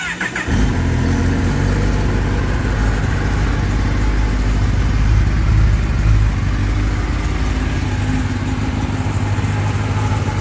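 A 2022 Kawasaki ZX-10 sportbike fires up at the start, then settles into a loud, steady idle with a deep, even burble held close to the bike for the whole stretch.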